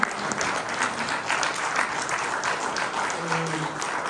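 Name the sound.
audience applause at colloquium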